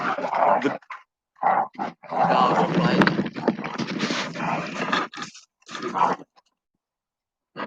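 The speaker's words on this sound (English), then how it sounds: "the dogs are chasing each other around the yard and making a lot of noises and play" Dogs growl, grumble and yap in bursts while chasing each other around a yard, the rough vocal noises coming in uneven spurts with short pauses.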